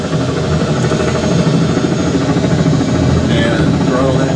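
Helicopter turbine spooling up after start, a steady loud whine and rumble that builds toward flight idle, close by and continuous.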